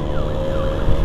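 An ambulance siren wails steadily with a low vehicle rumble underneath, heard from close by while escorting the ambulance from RSDK toward a hospital in Tasikmalaya.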